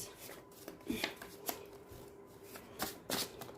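Tarot cards are shuffled and drawn close by, with soft papery riffles, slides and occasional sharper card snaps in an uneven rhythm, faint and without talking.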